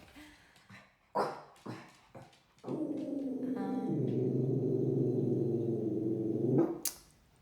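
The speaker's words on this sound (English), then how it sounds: "There's another dog." A dog gives a few short barks and yips up close, then breaks into a long sustained howling whine for several seconds before it cuts off, with no one talking.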